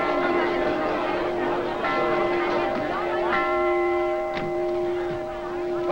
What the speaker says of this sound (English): The trouble bell.